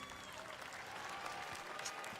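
An audience at Summer Games Fest applauds steadily throughout, a dense, even wash of clapping from a large crowd, heard slightly distant and muffled.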